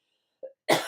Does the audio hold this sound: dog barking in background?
no